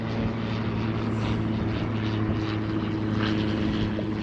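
A propeller biplane drones overhead at a steady distance, a continuous buzzing engine note heard outdoors near the water on a boat.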